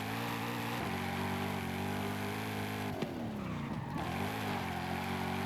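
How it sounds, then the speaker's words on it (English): Mustang drifting in a racing video game, the engine holding a steady droning tone while tires skid and squeal as the e-brake is pulled, with pitch sweeps around mid-slide. "Sure, I have to slam my e-brake a lot more to get her to still slide."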